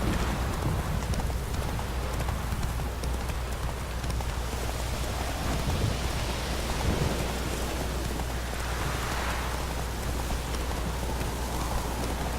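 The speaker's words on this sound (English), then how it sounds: "Thunder in the background, lightning striking off in the distance. We've got storm rolling in." Steady rain pours down in a video game thunderstorm, with low rolling thunder rumbling in the distance beneath the constant hiss of falling water.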